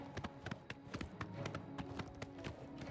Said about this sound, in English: that we have Shadowmere, we can technically travel around by horse to this next contract.